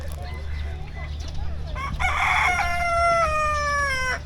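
A rooster crows loudly nearby at a farm-style cafe beside rice paddies, one long drawn-out cock-a-doodle-doo rising over a quiet outdoor background.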